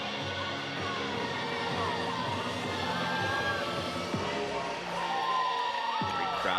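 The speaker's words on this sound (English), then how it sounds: "Great crowd of Carolina students behind Wozniak, cheering her on this 4th and final rotation of the night." Crowd of Carolina students cheering at a college gymnastics meet, a steady distant roar of voices with occasional whoops, under continuous commentary.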